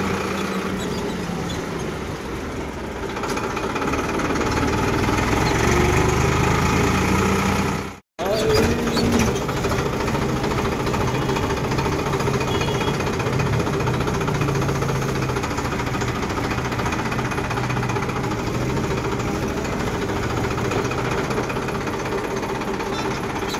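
A tractor engine chugging loudly and steadily up close, a rough knocking drone that cuts out for an instant partway through and then continues unchanged.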